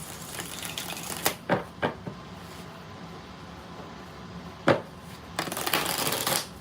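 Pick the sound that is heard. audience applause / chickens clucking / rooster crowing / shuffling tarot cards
shuffling tarot cards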